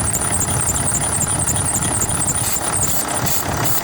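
Idler pulley squealing on a Mercedes Sprinter 2500 with a 3.0L engine, a steady high-pitched whine over the running engine's rumble, loud and continuous throughout with no talk.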